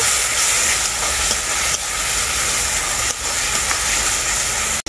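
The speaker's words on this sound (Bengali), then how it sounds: "এই গুঁড়ো মশলাটাকেও আমি খুব ভালো করে কষিয়ে নেব।" Ground Kashmiri chilli, cumin and turmeric fry and sizzle in a pan with a steady, close hiss, and a few brief stirring scrapes come through near the end.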